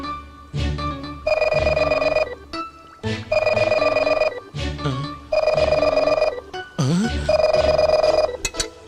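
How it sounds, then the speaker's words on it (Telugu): A telephone rings inside a room in four regular bursts, each a sustained electronic trill, with brief noises and muffled sounds between rings. "లోపల నుంచి రింగ్ అవుతుంది"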